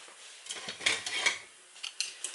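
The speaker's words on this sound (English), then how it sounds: "So I'm just going to stir it up a bit" Flour and water paste for ham gravy stirred in a pan, a utensil scraping and clinking against metal in short uneven bursts, with a quiet pause before a few sharper taps near the end.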